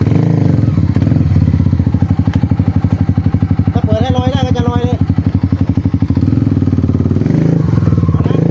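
A motorcycle idling and being gently throttled on a dirt trail near a dam in Phuket, a steady loud thumping engine close by with a brief rev in the middle, while people talk over it.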